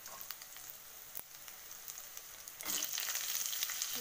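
Bitter gourd sizzling as it is stir-fried in a pan, a quiet crackle with scattered pops and a brief scrape, then the frying swells louder and busier toward the end.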